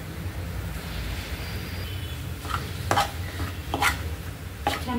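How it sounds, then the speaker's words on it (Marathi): Potatoes being stirred and sautéed in a pan with red chilli powder for a potato filling, a steady low sizzle under occasional sharp scrapes and clinks of the spoon against the pan. "छान बटाटा परतून घ्यायचा, मस्त"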